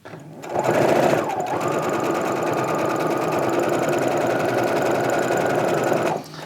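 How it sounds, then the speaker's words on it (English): A sewing machine stitching ribbons onto a skirt runs in one steady, rapid mechanical whir for several seconds before stopping, heard up close and alone. "I'm going to sew a few more ribbons onto this skirt here"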